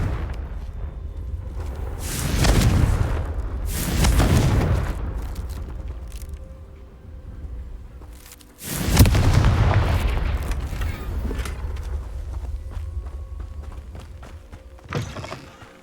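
Fiery blast spells from Hogwarts Legacy boom out in a few heavy, rumbling bursts, with softer thuds and footsteps between them and no talk.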